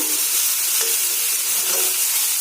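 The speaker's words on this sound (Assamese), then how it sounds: "এতিয়া এয়া অকণমান ভজা হৈ গৈছে 2 মিনিটমান ভাজিলোঁ" Fiddlehead fern greens fry in a pan over a gas flame, crackling with a loud, steady sizzle while being stirred, with a few soft scrapes.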